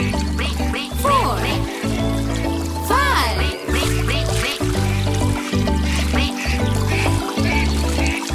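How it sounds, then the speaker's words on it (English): Cartoon-style duck quacks from a children's nursery rhyme about a mother duck and little ducks, several short nasal calls standing out over a steady, bouncy musical backing. "Mother duck said, quack, quack, quack"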